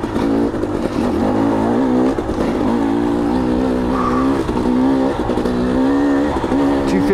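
KTM 250 XC dirt bike engine pulling hard in second gear on a climb, a loud, close, steady two-stroke drone whose pitch rises and falls slightly with throttle.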